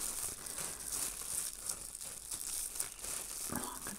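A plastic food bag crinkles continuously while a knot is tied in its corner, close and fairly loud rustling throughout, with a slightly sharper crunch near the end.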